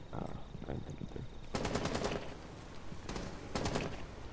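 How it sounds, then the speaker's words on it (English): Gunfire in the video game Rainbow Six Siege: two loud bursts of rapid automatic shots, each lasting about a second, with faint voices talking underneath in between. "Hey, I'm getting shot at."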